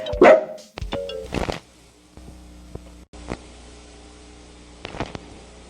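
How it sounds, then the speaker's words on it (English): A cartoonish dog named Chip barks in the horror video game Amanda the Adventurer: one loud bark at the start, then a few fainter scattered yips over quiet game ambience and electronic hum. "with me, as always, is my trusty dog, Chip"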